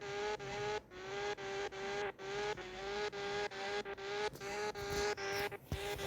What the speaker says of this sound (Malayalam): ഇതൊന്ന് ഡ്രിഫ്റ്റ് അടിക്കാവേ. ഐ മീൻസ് ഒരു ഡ്രിഫ്റ്റിംഗ് കാറാണ്.